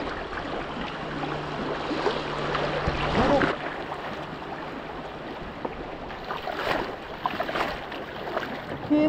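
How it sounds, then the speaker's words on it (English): Rushing river rapids churn and roar steadily close by while tubing, a continuous turbulent wash with occasional splashes. "Coming up on a little bit of rapids."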